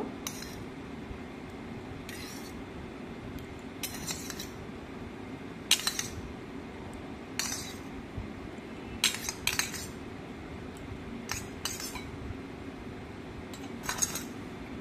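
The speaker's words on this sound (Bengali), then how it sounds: "একে একে সব কুচানো সবজিগুলো দিয়ে দিলাম।" Chopped vegetables, papaya, carrot and onion, are added one at a time to a bowl of sour yogurt, with sparse, faint clinks of a spoon against the bowl over a quiet background hum.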